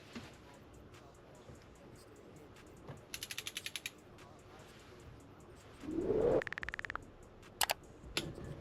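Bolt on a Honda XR80 motorcycle engine fitted with a BBR 95cc big bore kit being tightened to 9 foot-pounds with a torque wrench, making a short run of rapid ratcheting clicks, then a brief whir and sharp metallic clicks up close.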